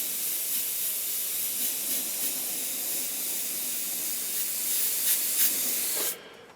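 An airbrush lays a very light coat of black paint through a stencil, a close, even hiss of spray held steadily for about six seconds before cutting off sharply.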